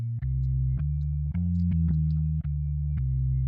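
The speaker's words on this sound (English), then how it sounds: "Let's do a walking bass." A jazz walking bass line plays with the left hand on a keyboard: steady, evenly spaced low notes stepping through the changes of a Christmas tune, with light upper chord touches, moderately quiet and unaccompanied by talk.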